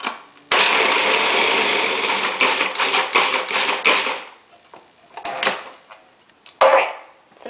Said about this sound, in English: I'm going to process this until everything is pureed